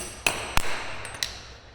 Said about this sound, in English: We use a small hammer to engage it.